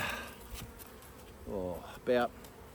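Honey bees buzz around an open hive during a spring inspection, a few separate close passes rising and falling in pitch against a quiet background.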